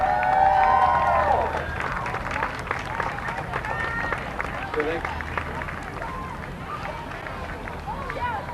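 Spectators at the Pelham Old Home Day street parade clap and cheer as the Razorback cheerleaders pass, a loud burst of applause that settles into steady crowd noise and chatter.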